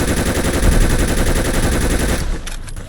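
Sustained automatic fire from the Service Rifle mod in Fallout 4, a loud, dense, rapid burst of shots that stops abruptly near the end, leaving a few fading echoes.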